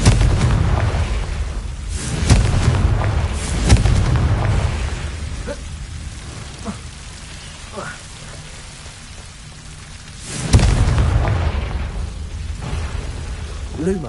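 Confringo and Bombarda spell blasts in the video game Hogwarts Legacy. Heavy, rumbling explosive bursts erupt a few times over a constant noisy wash, with a voice speaking at points.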